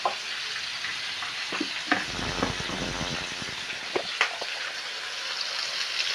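Chicken pieces seasoned with black pepper and spices sizzle steadily in a pan, with a few scrapes and clacks as they are turned over, and a brief louder hiss midway; no one talks.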